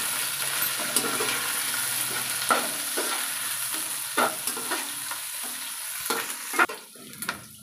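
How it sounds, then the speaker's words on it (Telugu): Onions fry in oil for chicken pulao, a constant crackling sizzle close by, punctuated by repeated scraping stirs of a spatula in the pan; no talking. "ఇగో ఆనియన్స్ అన్నీ బ్రౌన్ కలర్ వచ్చే వరకు ఫ్రై చేసుకోవాలండి"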